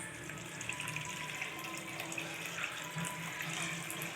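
Water pouring steadily into a pot of Tamil fish gravy (meen kulambu) with tamarind water, a continuous splashing, running-water wash close by, heard alone without talk.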